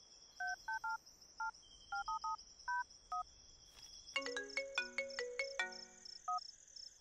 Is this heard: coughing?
no